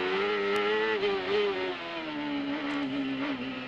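CART Indy race cars close up under braking at the Molson Indy Toronto street circuit. A high, buzzing engine note dips and wavers as the cars slow and gears shift down, steady and fairly loud throughout.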